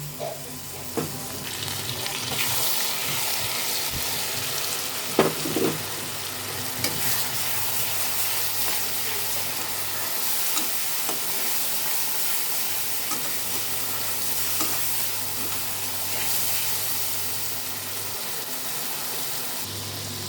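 Spice masala with salt sizzles and fries steadily in hot oil as a spoon stirs and scrapes the pan, ahead of adding marinated Bombay duck (lote fish) for jhuri, close and continuous with no talk.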